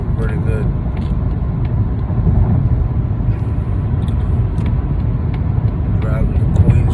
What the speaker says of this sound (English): I'm driving a rental right now. Mazda 3.